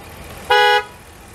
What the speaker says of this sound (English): I wonder why the horn went off